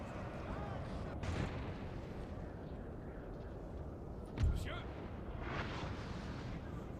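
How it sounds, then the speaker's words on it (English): Cannon fire in the video game Napoleon: Total War at the Battle of Borodino: distant booms land over a steady battle din, with one louder, closer blast midway. "Cannons here giving fire to something."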